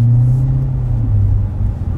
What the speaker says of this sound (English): So the drone from the Z06 stock exhaust, it's not horrible, but it's bad.